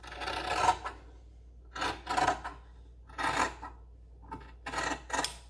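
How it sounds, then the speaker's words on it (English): Scissors snip through fabric in five separate rasping strokes, each about half a second long, with brief quiet pauses between them, close up and alone. "I just need to use scissors for the outside edges, the curves"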